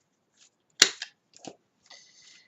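A hand corner punch snaps through decorative paper with one sharp loud click, followed by a few lighter clicks and rustles as the paper is shifted and rounded at the bottom corners.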